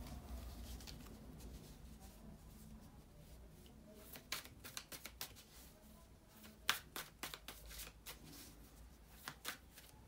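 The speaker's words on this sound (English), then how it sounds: "bear with me just a second, guys, to shuffle the tarot cards" Soft riffling and tapping of tarot cards being shuffled, quiet and close, with bursts of crisp flicks growing more frequent toward the end.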